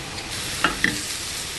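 Shrimp crowded into a hot pan give off a steady, dense sizzle of frying, with a couple of sharp clicks from stirring. The sound is close and continuous, with no talking.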